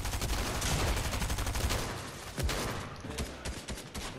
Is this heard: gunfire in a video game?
yes